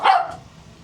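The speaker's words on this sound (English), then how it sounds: "I can't talk over these dogs." One loud, close dog bark at the very start, a sharp yip that fades quickly into a quiet room at a house comedy show, with no talking.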